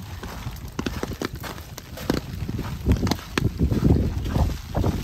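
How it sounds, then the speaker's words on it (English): Gusty wind buffets the microphone outdoors on a cold, windy day on Taketomi Island, Okinawa, with rumbling low bursts that rise and fall and grow stronger toward the end. "cold and windy today."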